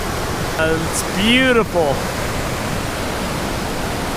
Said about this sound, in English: Look at that river is raging